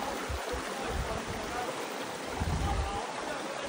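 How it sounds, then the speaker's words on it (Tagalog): A river stream flowing near a bamboo grove on a camping hike, a steady close rushing and burbling of water with low churning pulses, continuous for a few seconds. "Dito sa ilog."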